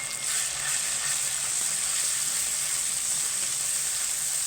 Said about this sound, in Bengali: এইটাকে একটু ভেজে নেব।